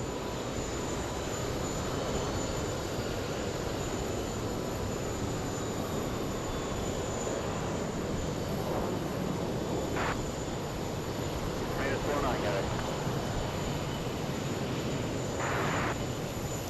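A CRJ regional airliner taxis and parks at JFK airport, its jet engines a steady broad rumble and hiss throughout, with a few brief higher whines rising over the constant drone.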